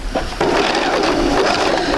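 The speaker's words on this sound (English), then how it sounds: "Go ahead and sew that." A sewing machine stitching a fabric seam, a brief steady close whir with a rapid rhythmic texture, heard alone.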